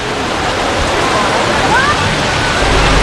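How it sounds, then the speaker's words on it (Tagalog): Floodwater of the overflowing Tullahan River in Quezon City, released from La Mesa Dam, a loud, steady broadband rush of torrential water with no break, heard alone. "sa pagragasan ng tubig sa Tulyan River matapos umapaw ang Lamesa Dam na di kalayuan sa barangay"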